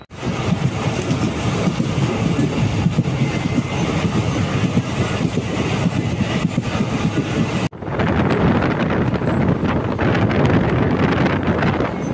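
The Chalukya Express is heard from on board, with a steady, loud rumble of rolling wheels and wind noise that drops out for a moment, then carries on just as loud.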